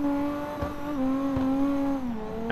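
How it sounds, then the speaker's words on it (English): A modified E36 drift car in the CarX Drift Racing video game holds a steady, buzzy engine drone that dips and rises, with a few short pops as it is rev banged on a snowy road. "Kind of rev banging this car."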